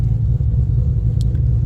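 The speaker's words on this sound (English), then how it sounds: "So you obviously turn your car on," A 2014 Ford Shelby GT500 engine idles with a loud, steady, deep rumble close by, with no talk over it.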